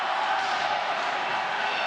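Hockey arena crowd at a boys high school game, a dense steady roar of many voices rising and holding throughout, loud and continuous as spectators clamor for a penalty call.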